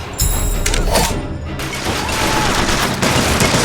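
Sustained gunfire in the video game Bioshock Infinite, a loud, dense fusillade of shots with booms and crashes running almost continuously, with in-game voices shouting over the battle.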